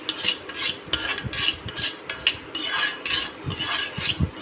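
Moong dal dry-roasted without oil in a kadai, with repeated scraping and rattling as a metal spatula stirs the dry lentils against the pan in uneven, close strokes. There is little sizzle and no voice.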